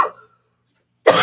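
A short cough bursts out at the start and trails off into quiet, then a louder cough-like burst returns near the end, from someone smoking and tasting cannabis during a smoothness comparison.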